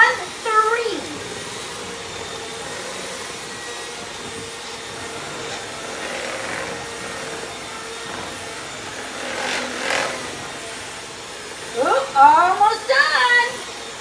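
A handheld electric mixer beats batter in a bowl, giving a steady close motor whir that rises and shifts in pitch as the speed is raised, with brief voice-like sounds near the start and end.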